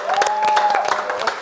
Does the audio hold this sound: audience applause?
yes